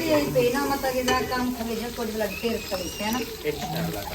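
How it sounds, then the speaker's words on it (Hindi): Fish frying in a pan in a Pakistani village kitchen gives a steady, soft crackling sizzle that runs throughout the short stretch, with faint stirring and scraping mixed in. "फ्राई हो रही है"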